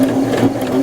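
A sewing machine running a zigzag stitch along a seam allowance as a seam finish, a steady close mechanical hum and rapid needle chatter, continuous and alone.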